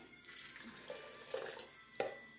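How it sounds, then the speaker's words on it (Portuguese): Warm water poured into a bowl for corn bread dough, a soft running splash with a few gurgles and drips, close but quiet, with no voices. "eu vou colocar a mesma medida da lata, uma água morna"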